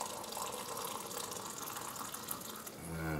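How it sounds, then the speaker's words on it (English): Coffee pours steadily from a stainless steel French press into a cup, a continuous close liquid splash and trickle that shifts in tone near the end as the cup fills. "pour ourselves a cup of coffee"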